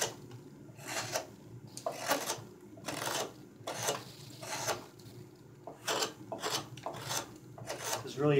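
Rhythmic rasping strokes of a hand tool scraping and scooping out a cherry wood cooking spoon, about a dozen close, dry scrapes in steady succession with short pauses between.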